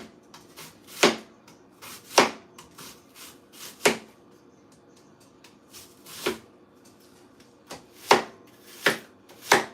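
A knife chops onions on a board for chili soup, sharp, close thwacks landing in an irregular rhythm of single strokes and short bursts, with quiet gaps between and no talking.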